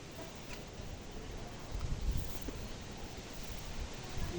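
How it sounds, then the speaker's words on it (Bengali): Continuous low rumbling wind with soft rustling of leaves, gusting a little stronger midway and toward the end, close to the microphone. "এখানে প্রচুর বাতাস"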